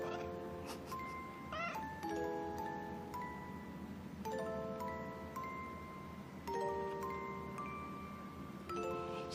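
A cat gives a series of short meows in reply, one after another, over a constant background hum, fairly close but not loud.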